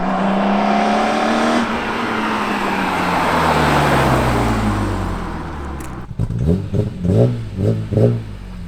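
A BMW E46 M3 revs and accelerates past with a loud, raspy exhaust note that sweeps down in pitch and fades. Sharper blips and revs follow near the end.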